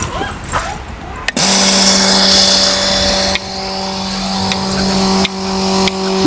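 After a moment of quiet, a cow milking machine switches on with a sudden loud, steady mechanical drone, broken by occasional sharp clicks.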